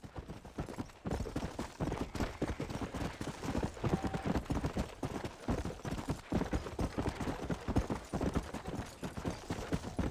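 Steady clip-clop of horse hooves in Red Dead Redemption, dense and rhythmic across the whole stretch, moderately loud with no talk over it.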